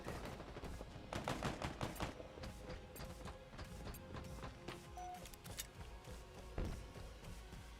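Rapid pistol fire and explosive impacts from Halo Infinite gameplay, a dense stream of sharp shots over a constant noisy game background, moderately loud with no voices.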